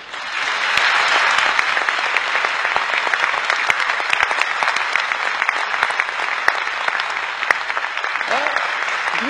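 A large audience in a hall breaks into loud, sustained applause that holds steady throughout, with dense, rapid clapping and no voices over it.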